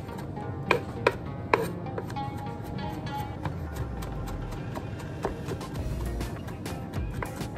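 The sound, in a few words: chopping garlic with a knife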